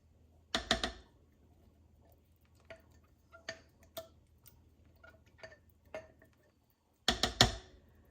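Queso cheese being scraped from a glass jar for a crockpot meal: sharp utensil clinks against glass in a few bursts with softer scrapes and taps between, close and quiet otherwise.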